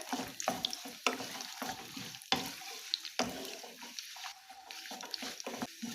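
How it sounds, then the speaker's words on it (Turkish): Walnuts being stirred and roasted in a hot pan over low heat, with scraping clatters, irregular knocks, and a light sizzle underneath, fairly close. "cevizimizle şöyle bir dakika kısık ateşte kavurmamız yeterli olacak."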